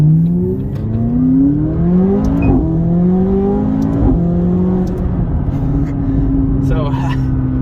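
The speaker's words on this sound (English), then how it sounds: "So we get up to speed and more pretty quick." Tuned twin-turbo McLaren 570S, about 200 horsepower over stock, accelerating hard from inside the cabin, engine pitch climbing through repeated rising sweeps with brief dips at gear changes, loud and continuous.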